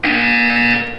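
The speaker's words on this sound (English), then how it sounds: "When you hear the buzzer, look down at the floor." A loud, steady electronic buzzer tone from the video game Portal 2 sounds alone for about a second, holding constant before cutting off.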